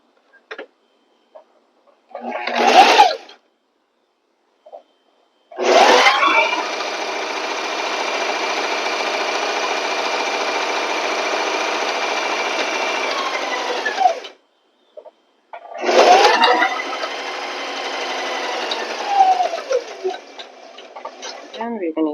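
A sewing machine stitches fabric with a twin needle and guide foot: a short burst, then a long steady run of rapid close whirring, and another run after a pause, with speech around the stitching.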